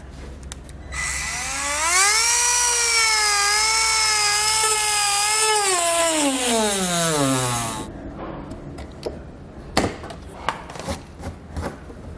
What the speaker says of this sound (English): I'm going to use our Dremel tool as well as our snips to get this material removed